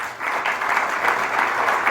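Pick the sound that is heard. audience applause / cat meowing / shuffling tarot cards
audience applause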